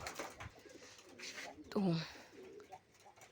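A red racer pigeon gives a single close, throaty rolling coo partway through while someone talks nearby.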